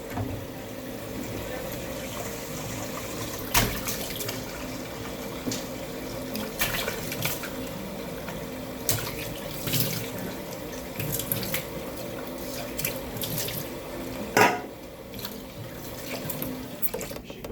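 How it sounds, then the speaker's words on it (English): Tap water runs steadily into a sink as a cutting board is rinsed after a white vinegar wash, with occasional clunks and splashes breaking the continuous flow. "I use the white vinegar to also wash my cutting board"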